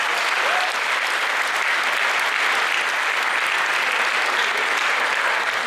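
An audience applauds at an award ceremony, a steady, dense wash of clapping from many hands that holds at an even loudness throughout without letting up.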